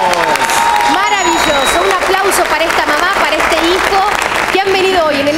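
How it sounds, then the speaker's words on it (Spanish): Loud game show studio audience applause for a mother and son, continuous clapping and cheering with voices and music mixed in throughout. "Un aplauso para esta mamá, para este hijo"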